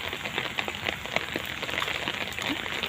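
Steady rain falls on surfaces around a flood-surrounded home during strong wind, a dense, even patter with scattered nearby drips, close and continuous throughout.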